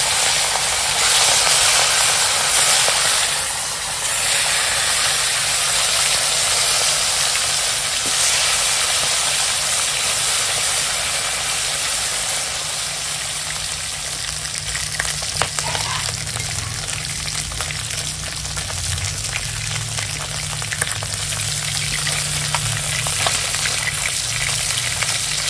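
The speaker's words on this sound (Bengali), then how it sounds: "আর এখন মাছ ভেজে নেবো।" Pona fish coated in salt and turmeric frying in hot oil, giving a loud, close, steady sizzle that runs unbroken throughout with no talking.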